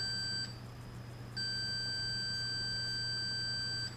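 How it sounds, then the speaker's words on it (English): A high, steady electronic beep from a multimeter in continuity mode sounds twice: a short tone, a brief gap, then a longer continuous tone over a faint low hum. "use the continuity mode on the meter, and let's just make sure we hear"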